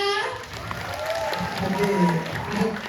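Applause from the crowd at a Balinese comedy performance at a temple, a continuous wash of clapping under loud talking voices.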